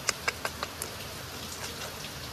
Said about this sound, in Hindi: और बारिश देखो, बाप रे बाप रे बाप रे बाप